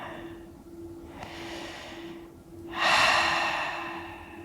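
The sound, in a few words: deep breathing during yoga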